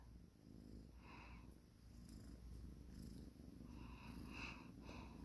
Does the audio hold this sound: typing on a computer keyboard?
no